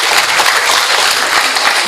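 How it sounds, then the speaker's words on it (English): An audience at a multistakeholder forum on a World Bank report gives a short burst of dense, loud applause, clapping filling the room with no voices over it. "can we give a big round of applause to our speaker again?"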